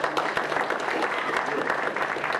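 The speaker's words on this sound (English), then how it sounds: "Let's give yourselves a great round of applause." A community meeting audience at a landfill summit in Clearfield County, Pennsylvania, gives itself a brief round of applause, a dense burst of clapping with a few sharper claps standing out.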